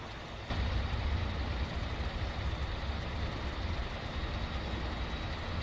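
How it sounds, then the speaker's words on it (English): A truck engine in MudRunner crawls uphill in crawl gear, a steady low drone that kicks in after a brief pause and holds a constant grinding rumble throughout, with no voices. "the crawl gear is really slow"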